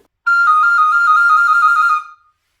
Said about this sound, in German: Das Ganze könnt ihr auch noch mal auf der Sopranblockflöte hören.